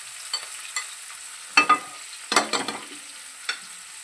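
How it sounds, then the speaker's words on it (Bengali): Onions being sautéed in a pan: a few sharp scrapes and clinks of stirring, with quiet sizzling between them. "এখানে পেঁয়াজ এইভাবে কষে নিয়েছি"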